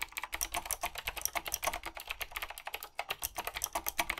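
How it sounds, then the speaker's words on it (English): Close-miked typing on an AZIO white vintage-style keyboard with round keys, a dense, steady run of crisp clacking keystrokes with no voices. "Just listen. You guys ready? Here's some true ASMR on my channel. I'll even move the microphone down close to it."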